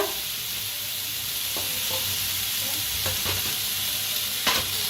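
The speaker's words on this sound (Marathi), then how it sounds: "लसूण बी टाकूया, ह्याच्यातच भाजून घ्यायचं आहे।" Onion, tomato, garlic, ginger and green chillies fry together in a pan, a steady close sizzle with occasional scraping stirs and light clinks throughout.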